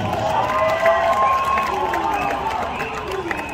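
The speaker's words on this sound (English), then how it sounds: "I want to give a big round of applause to all the ladies and gentlemen." A stadium crowd cheering and applauding as football players and managing staff are welcomed at a prize distribution, a dense continuous roar heard from a distance, with a public-address voice ringing over it.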